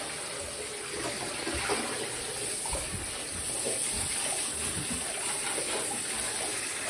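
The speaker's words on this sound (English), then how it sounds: "You don't want to have the shower on too hard or it'll blow her across the bath." A shower sprays water in a bathtub while a poodle is bathed, a soft, steady hiss of running water that carries on evenly throughout.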